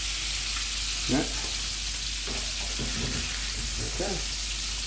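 Meatballs fry in a frying pan with a steady, close sizzle throughout, while a person speaks briefly over it.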